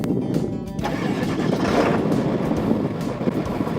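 A 7.3 liter engine cranks and starts, with a brief grinding crank at first and then a steady, loud, close idle rumble that runs to the end, slightly buffeted by wind.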